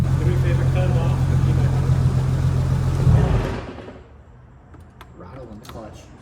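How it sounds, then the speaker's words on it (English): Loud idling engine of a Honda S2000 with a triple-disc competition clutch, a dense metallic rattle over the low drone, cut off abruptly midway, followed by faint clicks and quiet talk nearby. "Rattle in the clutch."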